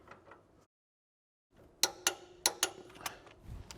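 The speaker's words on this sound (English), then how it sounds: "Now we can install our new 18mm nut. And then we're going to torque it down to 63 foot-pounds." Torque wrench clicking while tightening an 18mm nut on a Porsche 996 911, a handful of sharp metallic ratchet ticks in an irregular rhythm, close and fairly loud after a brief silence.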